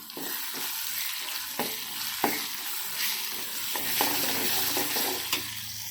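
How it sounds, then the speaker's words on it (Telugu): Ginger garlic paste is stirred into a frying drumstick tomato curry base: a steady sizzle broken by repeated sharp spatula scrapes and taps against the pan. "నెక్స్ట్ కొంచెం అల్లం వెల్లుల్లి పేస్ట్ ఒకసారి మనం కలుపుకోవాలి"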